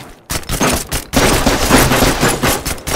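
Loud close gunfire in the tactical shooter Thunder Tier One, a sustained volley of rapid shots with short gaps, dense and punchy throughout.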